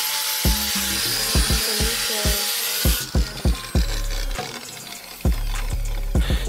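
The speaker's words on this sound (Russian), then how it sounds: "Сегодня достал раму после разбора и зачищаю ее для того, чтобы посрезать все остатки." A power tool cleaning and cutting the bare frame of an IZh Jupiter motorcycle after teardown: a harsh, high grinding whine up close, broken by repeated sharp metallic knocks and clatters, then a quieter stretch with intermittent clanks.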